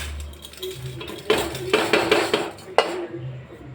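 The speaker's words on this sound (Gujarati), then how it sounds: "હવે મેં પ્રેશર કુકર એક લઈ લીધું છે।" A pressure cooker being handled in a home kitchen, with several sharp metallic clanks and knocks in a short burst, close and fairly loud, with no talking.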